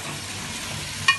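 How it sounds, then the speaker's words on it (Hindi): Chicken pieces fry in oil for chicken kadai, a steady close sizzle with one small sharp click near the end. "चिकन का कलर चेंज ना हो आपने इसको ऑयल में भूनना है"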